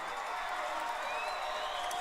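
A home crowd at a Woodstock versus Etowah high school football game cheers and claps in a steady wash of noise, a dense distant roar with no gaps.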